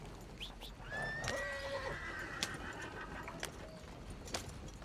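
Horse in Red Dead Redemption 2 gives a whinny with a few clip-clop hoof sounds over steady ambient game noise, moderately loud throughout.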